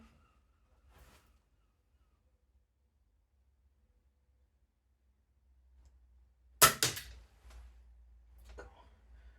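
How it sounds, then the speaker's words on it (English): A Diana SP50 air pistol fires a single sharp crack after a long stretch of quiet, followed by faint mechanical clicks and rattles, close and isolated with no voices. "It's really heavy trigger pull, so let's have a couple more shots."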